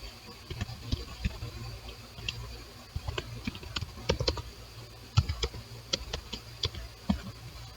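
Keys clatter on a computer keyboard while a Roblox script is written, delivering irregular quick bursts of close, light taps with short gaps.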